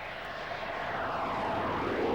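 A Soviet carrier-based MiG-29K fighter jet's engine drones as a steady, moderately loud roar that swells slightly toward the end, with no voices.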